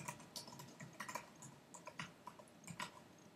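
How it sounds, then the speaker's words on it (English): Quiet, close computer keyboard typing, irregular bursts of light key clicks with short pauses, no voices. "Now I have to type in my name"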